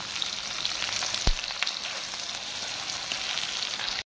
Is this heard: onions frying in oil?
yes